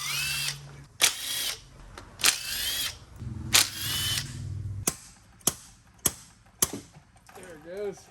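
An impact or power drill drives bolts out of a Ford Escape transmission in a repair setting, firing in several sharp, loud bursts of whirring spaced between pauses, with a voice and small clanks in between.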